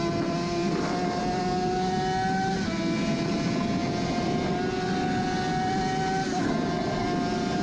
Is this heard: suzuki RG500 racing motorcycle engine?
yes